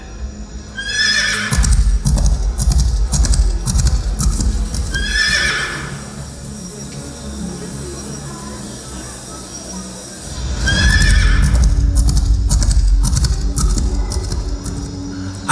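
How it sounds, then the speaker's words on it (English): Horses neigh loudly in repeated whinnies, with hoofbeats and a rumble of approaching riders, in two bursts separated by a quieter stretch, staged at a school cultural day performance. "I hear the sound of horses and warriors approaching us."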